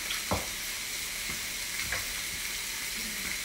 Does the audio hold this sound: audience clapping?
no